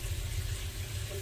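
Broth goes into a cooking pot as a short, soft, steady watery pour over a low background rumble.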